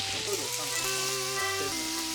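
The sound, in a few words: morels frying in butter and olive oil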